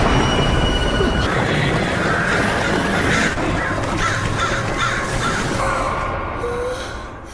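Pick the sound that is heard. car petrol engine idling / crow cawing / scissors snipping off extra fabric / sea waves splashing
crow cawing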